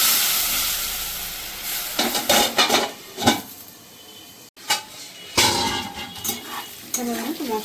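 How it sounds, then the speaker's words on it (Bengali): Spice paste being stir-fried in a pan with taro stems for a Bengali fish curry, with a steady sizzle, bursts of stirring, and clinks of a spoon against the pan; nobody speaks. "মশলাটাকে একটু ভালো করে আমি কষিয়ে নেবো গাঠি কচুর সঙ্গে।"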